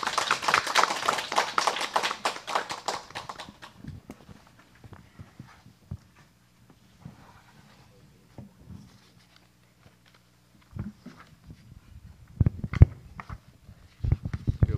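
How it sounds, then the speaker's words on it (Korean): Audience applause at a Korean forum on an aging society, welcoming a presenter: dense, busy clapping for about four seconds that quickly dies away into a quiet hall with scattered thumps and shuffling. "박수로 좀 부탁합니다"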